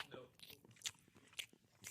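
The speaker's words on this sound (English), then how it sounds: "Sorry, I'm chewing." A person chews food close to the microphone, with wet crunching and biting bursts recurring through a brief moment of podcast conversation.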